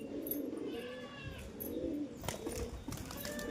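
A newly acquired female pigeon gives low, soft coos close by, a quiet rolling murmur over a steady background hum.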